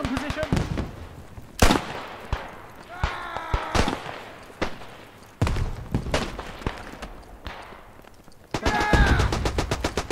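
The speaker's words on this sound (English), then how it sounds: "Clear that machine gun position." Machine gun fire and rifle shots in the video game Beyond The Wire, a Flanders night battle, with sharp bursts and single cracks at irregular intervals and a dense rapid volley near the end, plus shouting in the background.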